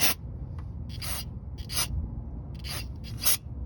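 Parts cleaner is sprayed onto the engine of a 2001-2010 Chrysler PT Cruiser in about six short hissing bursts, close and fairly quiet, with pauses and faint rubbing between them.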